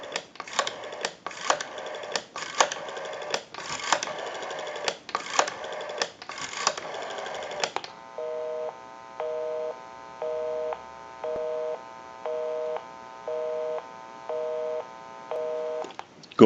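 A Western Electric 302 rotary desk telephone dials with a series of sharp clicking pulse bursts, then a busy signal beeps in an even on-off rhythm from the handset, clear and close.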